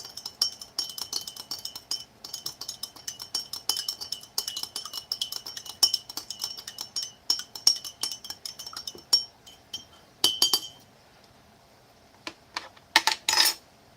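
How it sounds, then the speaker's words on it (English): A metal spoon stirs a drink in a cup from a Canadian military ration kit, clinking rapidly and steadily against the side for about nine seconds, then pausing before a few sharper clanks near the end; close and clear with no talking. "Now I'm going to give my drink another stir because it hasn't all dissolved yet."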